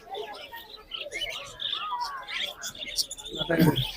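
Small birds chirp and tweet at a pet bird market where lovebirds are sold, with faint scattered calls under a murmur of market chatter and a louder burst of noise at the end.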